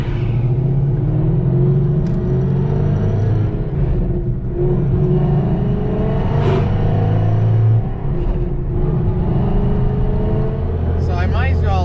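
A car with multiple misfires, gear changes and vibration in fourth gear drives along at operating temperature, its engine rumbling loudly and steadily with rising and falling revs and road noise, under near, continuous cabin sound.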